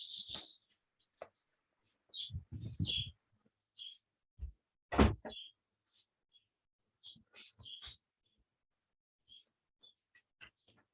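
Small birds chirp outdoors in short, scattered calls and quick bursts spread through the stretch, faint and intermittent with quiet gaps between them.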